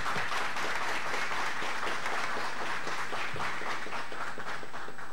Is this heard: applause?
yes